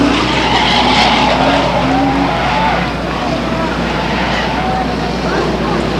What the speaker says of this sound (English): number 1 Grand Am spin coming off of turn 4, does a couple of donuts, gets back into throttle